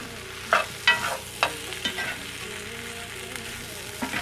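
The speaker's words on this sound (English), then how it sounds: "Now I'll give this another good stir." A spoon stirs potato curry with diced curry leaves in a sizzling pan, producing several distinct scraping strokes over a soft steady frying hiss, close and fairly loud.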